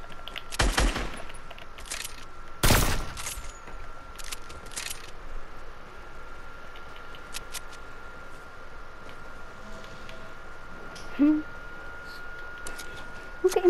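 Sharp sniper shots ring out in a Fortnite match, one loud crack near the start followed by a few fainter distant pops and game noise later, with some talk over the action.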